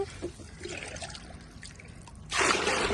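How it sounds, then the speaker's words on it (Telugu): Two liters of water poured into a large container holding about thirty liters of kitchen-waste liquid for a garden spray, starting as a soft trickle and ending in a louder gushing splash. "రెండు లీటర్లు తీసుకున్న వాటరు ఇవి పోస్తున్నాను"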